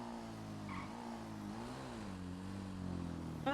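A motorcycle engine in a video game hums steadily, its pitch rising and falling as it revs, with no talking over it.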